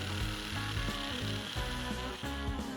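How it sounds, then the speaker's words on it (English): Electric metal cutting shears slice through fresh sheet metal to make a filler piece for an old, rusty truck, giving a loud, steady motor buzz with a rhythmic chattering bite and no talking. "cut out using the electric metal cutting shears"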